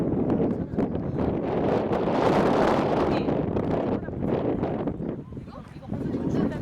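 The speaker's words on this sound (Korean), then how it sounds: "바람 술술 들어가." Outdoor wind rushing across the microphone at a memorial hall in Taiwan, a steady loud broadband roar with gusts, while people talk over it nearby.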